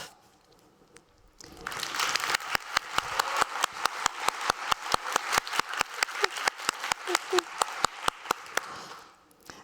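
Conference audience at a learning innovation battle starts applauding, then settles into loud rhythmic unison clapping, sharp evenly spaced claps repeating steadily for several seconds before fading out.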